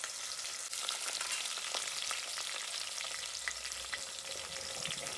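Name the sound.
sautéing mustard seeds, curry leaves and onion in a pan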